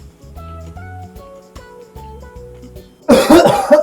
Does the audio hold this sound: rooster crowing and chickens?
no